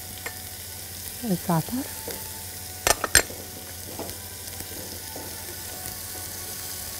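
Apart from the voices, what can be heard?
minced garlic and pepper sizzling as they are fried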